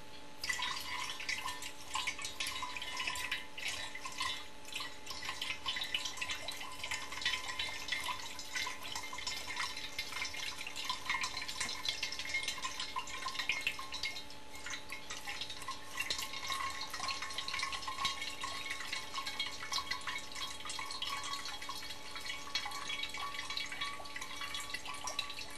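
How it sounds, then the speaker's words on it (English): Alcohol mash being poured into the boiler of a still, a steady continuous splashing and trickling of liquid lasting throughout, fairly close and alone without talk. "In the boiler, you pour it into the boiler"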